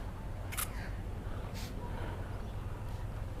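A hand spray bottle mists CarPro Elixir onto a car bonnet in quick, short bursts, about three and a half sharp sprays spaced apart over a quiet background hum.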